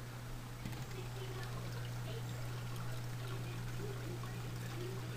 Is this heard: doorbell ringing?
no